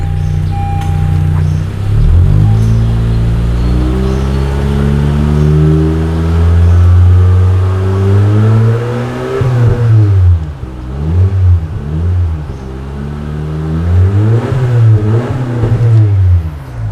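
A Honda Civic FC 1.5 turbo with a Hyperflow ProDrager center-exit exhaust revs repeatedly through a deep, throaty exhaust, rising and falling in several strong bursts over a steady idle, loud and close.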